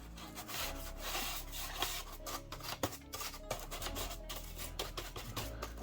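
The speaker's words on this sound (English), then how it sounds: "I'm going to use one of these brushes just to get in there." A stiff brush scrubs inside a laptop during cleaning, making quick, uneven rasping strokes close up, with no talk.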